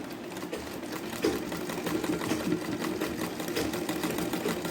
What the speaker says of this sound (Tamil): இதில் வந்து ஒரு நம்ம மிஷின் ஸ்டிச்சஸ்லேயே இதில் லைன்ஸ் போட்டோம்னா நல்லாயிருக்கும்